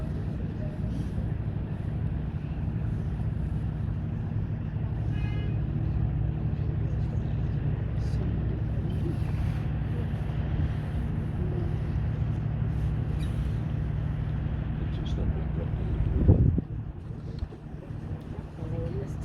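A cruise boat sails on Lake Windermere with a steady low engine rumble and wind and water noise throughout, with a brief thump near the end.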